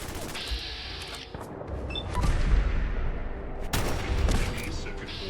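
Cannon fire and gunfire in the Fallout 4 video game aboard the U.S.S. Constitution: dense, loud bursts of blasts and crackling shots with a rumbling low end, swelling twice in heavy volleys.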